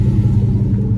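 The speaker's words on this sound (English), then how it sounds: "the exhaust is actually pretty loud. I like the tough sound it gives you. A nice rumble there." A 2004 Chevrolet Silverado regular cab with a 4.8 V8 and a loud aftermarket exhaust rumbles at a steady idle, close up. The low, throaty drone holds even throughout, with no voices.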